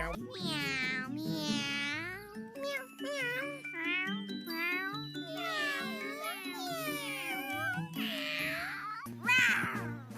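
Cartoon characters' voices imitating cats, with repeated sung and spoken meows in varied pitches, close and lively, with a few jingling touches and a high squeal near the end.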